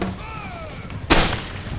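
A single booming artillery shot fired at an enemy line in Empire: Total War, a sharp loud blast with a short rumbling tail over light battlefield ambience.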